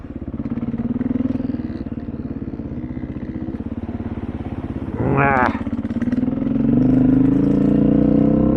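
A dual sport motorcycle is ridden on an autumn day, its engine holding a steady close drone that swells louder toward the end, with a brief rattling clatter midway.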